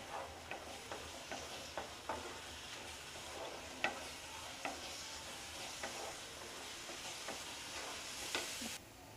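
Motichur laddu mixture is stirred in a pan over a high gas flame, a soft sizzling bed broken by regular scraping and tapping strokes of the spoon, fairly quiet and steady.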